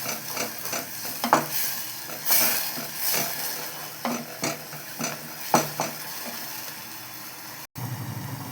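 Ground tomato and shallot curry masala for an egg curry is stirred in a pan, making repeated scraping strokes over a steady close sizzle.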